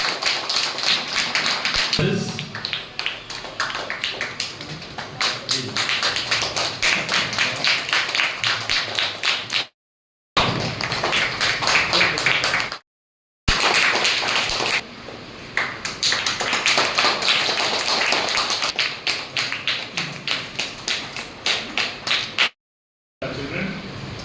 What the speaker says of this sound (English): you should not stop the clapping.